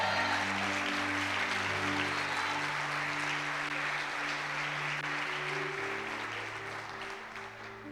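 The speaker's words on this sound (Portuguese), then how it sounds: "Tem alguém comigo aqui para celebrar e aplaudir o nome dEle?" A church congregation applauds during a communion service, a broad wash of clapping over sustained organ or keyboard chords that slowly tapers off toward the end.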